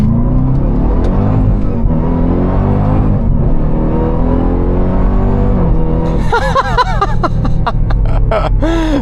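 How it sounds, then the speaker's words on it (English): A 2026 Dodge Durango Hellcat Jailbreak launches hard under launch control, its engine note a loud, continuous rumble that climbs in pitch as it pulls, heard close from inside the cabin. "floor the accelerator, and release the brake."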